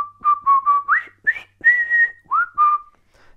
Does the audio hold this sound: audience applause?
no